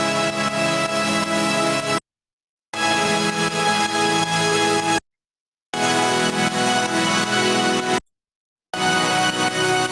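Layered sawtooth synthesizer chords in a melodic dubstep remix play in three-second bursts separated by short silences, bright and dense across the range.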